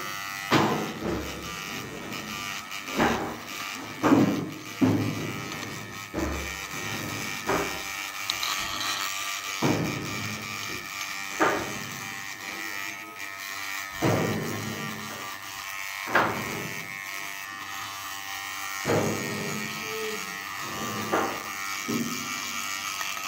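Electric hair clipper buzzes through a girl's hair during a haircut, running steadily with repeated sharp clicks and bursts as it moves and catches, close and alone without talk.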